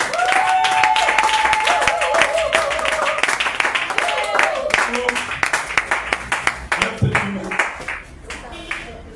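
Congregation in a French-language church service clapping and cheering for the Lord, loud sustained applause with shouts and a voice rising over it, thinning into scattered claps toward the end.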